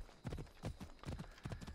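A horse gallops in the video game Assassin's Creed Odyssey, making four quiet, evenly spaced clip-clop hoofbeats in a steady rhythm.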